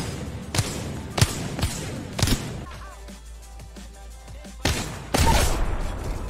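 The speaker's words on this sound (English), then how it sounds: "There's a headshot sound." Sharp headshot hits in Apex Legends, a few loud distinct impacts spaced over several seconds, standing out against background gameplay noise.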